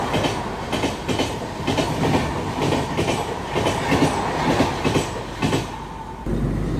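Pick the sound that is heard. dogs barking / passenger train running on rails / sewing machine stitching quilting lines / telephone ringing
passenger train running on rails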